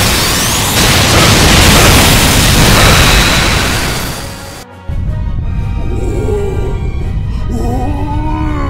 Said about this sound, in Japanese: 短距離誘導チーゼル発射、短距離誘導チーゼル発射、フルオープンスカルプチャ